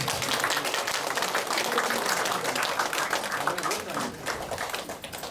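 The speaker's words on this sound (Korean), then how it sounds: "김종근 강사님을 뜨거운 박수로 환영해 주십니다." Audience at a lecture hall event welcoming a poetry lecturer with warm applause, many hands clapping in a dense patter that gradually thins and fades, with a voice faintly underneath.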